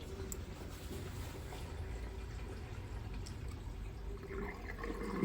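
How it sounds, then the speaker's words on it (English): Tap water running into a sink to test a newly replaced waste trap, a faint steady splashing and filling with slight dripping, alone and quiet. "Fill it up, give it a good test, and hopefully the water don't leak all over the floor"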